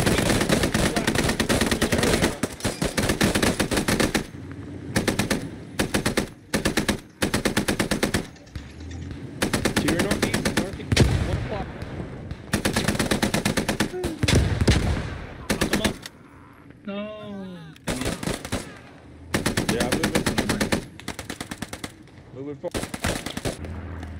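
Bursts from a .50-calibre machine gun in the Post Scriptum video game fire in long, loud, rapid strings separated by short pauses, with players' voices in the gaps.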